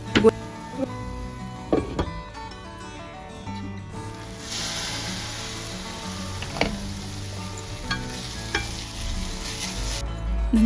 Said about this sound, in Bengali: টমেটো কুচিটা দিয়ে দিলাম দিয়ে এবার একটু ভালোভাবে নেড়ে